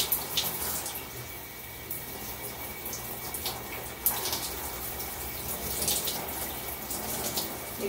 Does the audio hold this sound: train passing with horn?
no